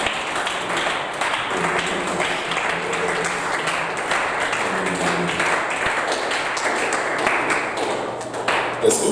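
A church congregation applauds and cheers in praise of the Lord, a dense, steady wash of many hands clapping that runs throughout, loud and close, with scattered voices mixed in.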